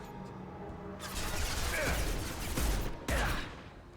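Gunfire in the Mass Effect 2 video game rolls out as a dense, noisy burst of shots and impacts that swells and drops twice, fairly quiet and steady, with no clear talk over it.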